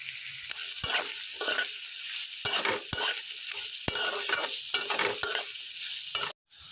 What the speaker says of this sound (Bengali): এবারে দিয়ে দিচ্ছি এখানে কুচনো পেঁয়াজ ক্যাপসিকাম আর দিয়ে দিচ্ছি এখানে গাজর কুচি আর কিছুটা কাঁচা লঙ্কা